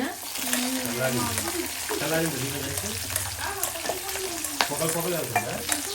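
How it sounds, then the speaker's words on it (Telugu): A tempering of urad dal, cumin, mustard seeds and dried chillies sizzles in hot oil, a steady close crackle with spoon scrapes, under a faint background voice. "మినపప్పు జీలకర్ర ఆవాలు వేసాము ఇంకా ఎండుమిరపకాయలు మిర్చి"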